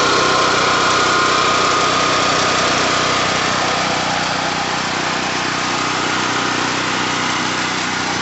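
A Firman H07552 generator engine runs at a steady, loud idle, a continuous buzzing drone with constant vibration and no voices.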